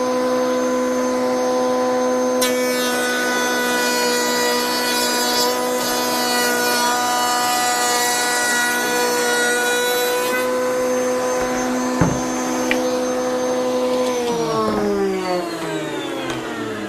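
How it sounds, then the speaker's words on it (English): A wood router mounted in a homemade router table cuts a tongue along the edge of a wooden shelf, giving a loud, steady high whine that runs alone, then drops in pitch as the motor spins down near the end. "turn our router on"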